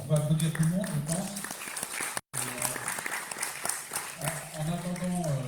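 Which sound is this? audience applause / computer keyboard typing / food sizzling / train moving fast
audience applause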